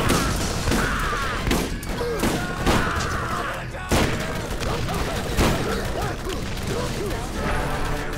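A gun fires in Borderlands in steady bursts of repeated shots, loud and close, with voices and game effects mixed in underneath.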